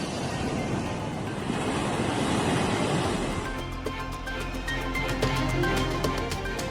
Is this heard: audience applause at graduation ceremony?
no